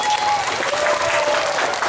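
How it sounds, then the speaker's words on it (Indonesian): A crowd claps steadily and densely at a village Maulid Nabi celebration in Kisaran Timur. A thin tone and faint voices sit beneath the clapping, which stays close and holds an even, unbroken level for its whole length. "Tepuk tangan buat dulu."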